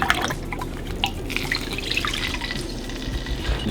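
Balsamic vinegar poured for a maple balsamic glaze, a steady close trickle with drips and splashes of liquid running continuously, with no talk.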